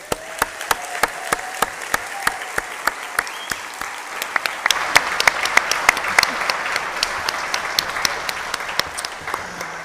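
Audience at a town hall on a local option levy applauds its panelists, a crowd's steady clapping with a few sharp, close individual claps standing out, continuing evenly for about ten seconds.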